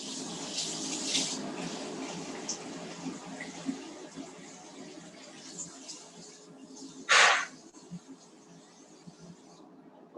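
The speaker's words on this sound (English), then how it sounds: "you need to get the water and rinse them pretty well" Tap water runs steadily while green onions are rinsed in a kitchen, making a continuous soft splashing hiss with one brief louder splash near the end.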